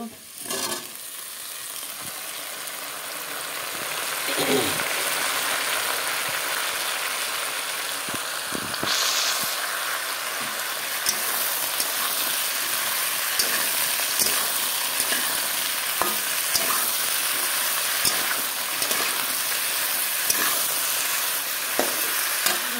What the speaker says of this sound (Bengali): এখানে আলু তেলে দিয়ে দিলাম। আলুটা ভাজা হলে পরে কচু দিয়ে দেব।